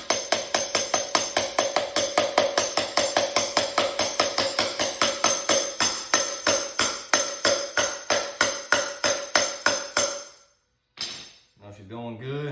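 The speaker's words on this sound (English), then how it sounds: "36mm socket. Fits nearly perfect. And just tap her in." A hammer taps a bearing race into a 2002 Harley-Davidson Dyna FXDL front end through a 36mm socket, giving a long run of quick, evenly spaced ringing metallic clinks before a brief pause and a few looser knocks at the end.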